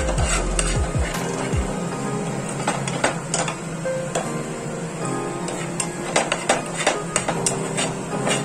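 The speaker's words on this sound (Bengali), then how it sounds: "আর এদিকে বসিয়েছি বাঁধাকপি ভাজা।" Cabbage frying in a pan and stirred, with a continuous close sizzle broken by repeated sharp scrapes and clicks of the utensil against the metal, no voices.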